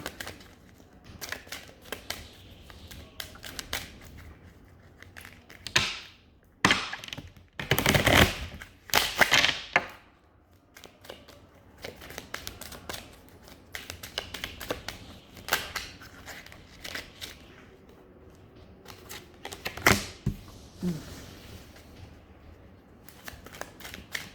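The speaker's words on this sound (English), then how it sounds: "I'm going to use these Kipper cards now." A deck of Kipper cards is handled and shuffled up close: sharp clicks and taps scattered throughout, with louder dense riffling bursts midway and again near the end.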